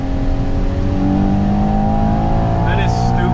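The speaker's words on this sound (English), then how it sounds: "when you can access those revs from the V12 to hear it and to feel that burst of pop" A Ferrari Purosangue V12 engine roars loud and steady in a sustained rev, with the rumble filling the clip close up.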